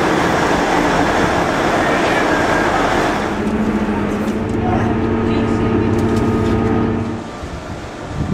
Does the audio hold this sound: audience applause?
no